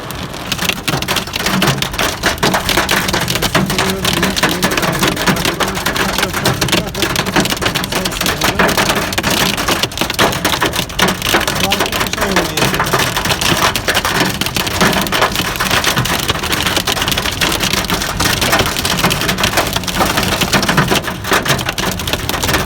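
Heavy summer rain pours onto a road and vehicle in a steady, dense roar that stays loud and continuous throughout, with no talking.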